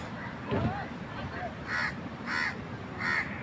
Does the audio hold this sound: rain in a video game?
no